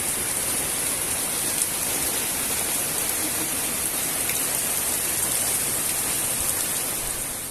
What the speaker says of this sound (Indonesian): harus meneduh dulu sebentar sambil nunggu hujannya reda